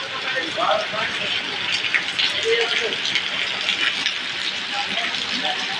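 Heavy rain pours steadily outdoors near a river and bridge during lemon picking, a dense, continuous hiss that fills the whole stretch, with faint muffled voices underneath.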